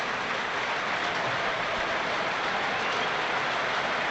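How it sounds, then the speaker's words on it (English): Steady applause from the remaining stadium crowd at a Sunderland versus Sheffield Wednesday football match, late in the game, heard as a dense, continuous wash of clapping at a distance with no voices on top. "The applause for Charlie Hurley from those that are left in the stadium."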